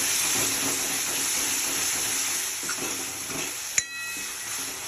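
Garam masala and mixed spices are stirred into a sizzling pan of tuver totha (pigeon pea curry), with a steady close frying hiss throughout, faint scraping, and one sharp clink of the spoon near the end.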